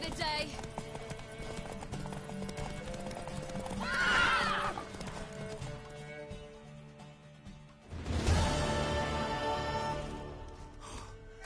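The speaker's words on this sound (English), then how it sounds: "Worthy of the best horse. The mare is yours." Horse hooves clip-clop steadily in The Witcher 3, with a loud whinny around the middle and another burst near the end, mixed under game music and voices talking.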